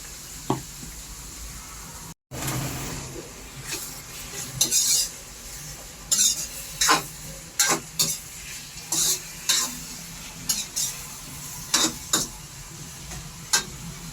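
Onions and tomatoes fry in a pan for a bachelor-style chicken recipe, a soft continuous sizzle broken by repeated sharp scrapes and clinks of a spoon stirring against the metal.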